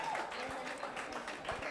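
Applause from an audience at an international academic conference on biobased environments, honoring a professor; a brief dense patter of many hands clapping steadily, with faint crowd murmur mixed in.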